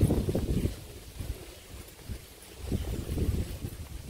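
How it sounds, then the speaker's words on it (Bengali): Wind gusts outdoors along a rural path beside growing aman rice fields, rumbling and buffeting the microphone in uneven surges, strong at first, easing midway, then rising again. "তার সাথে আজকে সারাদিন এইরকম বাতাস আছে"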